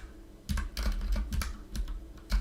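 Rapid typing on a computer keyboard, a close, irregular run of sharp key clicks and thumps that starts after a brief quiet lead-in and continues steadily without speech.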